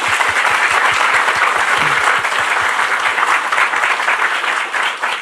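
A church congregation claps together during an evening revival sermon, a steady, full burst of dense applause that holds evenly throughout without any talking.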